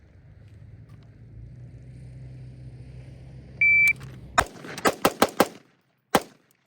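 Pistol shots on a shooting drill range: a low rumble and a brief electronic timer beep, then a rapid string of five sharp shots followed by one more a moment later, loud and close, with no talking.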